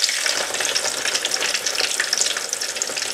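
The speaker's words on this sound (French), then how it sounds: "puisque le porc va frire dans l'huile" Pork pieces with the skin on frying in oil over high heat, a loud dense crackle of spitting oil with rapid popping, steady and close throughout.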